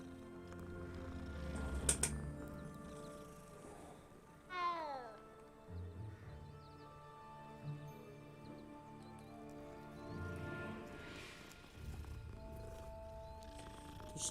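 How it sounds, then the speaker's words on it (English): A pet cat meows a few times in a room, with soft background sounds and a faint voice nearby. "Oh, this is my cat."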